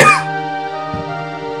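One short, sharp cough up close at the very start, fading quickly into a steady sustained tonal hum that continues alone afterward.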